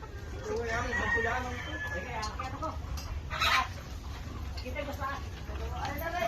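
A flock of about 120 hens clucks and chatters in a cluster nearby, with a person talking over them.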